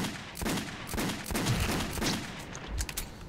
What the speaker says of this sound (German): Ich probiere mal den Revolver hier aus.